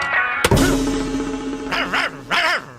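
A dog barks in a scene from a Telugu comedy film, with a sharp onset followed by a sustained voiced sound and several short yelping bursts near the end.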